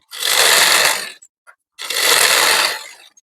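A sewing machine topstitches a blouse with very small stitches, running in two loud, close bursts of about a second each, separated by a short pause with a faint click.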